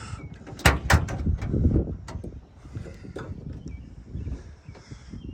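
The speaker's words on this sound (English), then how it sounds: "Go ahead and pop the hood." A sharp metallic clunk and creak of a 1969 Ford Mustang Mach 1's hood being released and lifted, with rustling and handling noises afterward outdoors.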